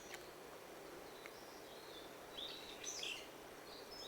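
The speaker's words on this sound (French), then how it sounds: "Dans le bruit des oiseaux." Birds chirp and call in a Japanese mountain forest, faint and distant, with a few brief whistled notes over a soft, steady background hiss.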